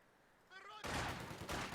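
Gunfire rattles in Company of Heroes 2, a marksman rifle shot within a crowded battle mix, loud bursts of rapid fire following a brief lower tone, with no clear speech over it.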